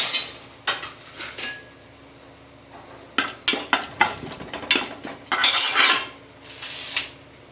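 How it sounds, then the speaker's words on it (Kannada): Whole spices (bay leaf, marathi moggu, star anise, cloves and cardamom) tempered in a hot pan for vegetable pulao, heard as a run of sharp metallic clinks, scrapes and clatters of a utensil against the pan, close and loud, with no talking. "ಅದು ಪಲಾವ್ ಎಲೆ ಮತ್ತು ಮರಾಠಿ ಮೊಗ್ಗು, ಅನಾನಸ್ ಮೊಗ್ಗು, ಲವಂಗ, ಏಲಕ್ಕಿ ಇದಿಷ್ಟನ್ನು ಒಗ್ಗರಣೆಗೆ ಹಾಕಬೇಕು."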